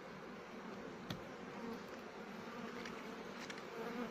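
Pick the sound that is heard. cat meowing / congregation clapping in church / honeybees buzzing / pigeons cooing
honeybees buzzing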